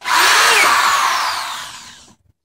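A power drill drives drywall screws in a home shop, one loud continuous whine lasting about two seconds that slowly fades before stopping.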